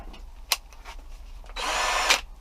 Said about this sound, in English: Alright, got my drill.